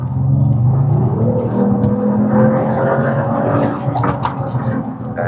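Loud exhaust from a Mercedes-AMG CLE 53 4MATIC+ coupe revving up, a rich engine roar that rises and holds close and steady for several seconds, with faint talk underneath.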